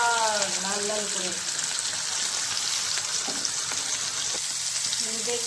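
A single piece of bata fish fries in shallow oil in a wok, giving a steady crackling sizzle throughout, fairly loud and close, with a voice briefly heard at the start.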